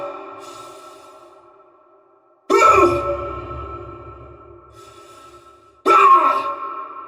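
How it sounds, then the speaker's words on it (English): Heavy breathing of a suited character inside a mask in the Dead Space video game, slow drawn exhales with two sharp, louder gasps that fade out, close and alone. "In the original Dead Space, you could hear Isaac breathing in his mask, right?"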